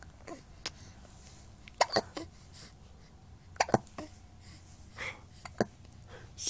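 A baby hiccups in soft, sharp little jolts, about seven of them coming irregularly, some in quick pairs, fairly close against a quiet room with faint voices.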